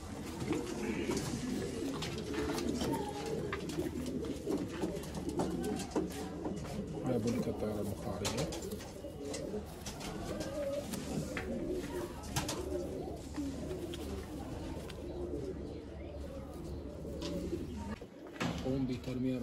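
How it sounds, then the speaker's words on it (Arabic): Pigeons coo repeatedly inside a racing-pigeon loft, their soft throaty calls overlapping with flutters and light rustling, while someone talks over them throughout. "هذا الطير هذا من استيراد اخونا البطل المهند القريشي"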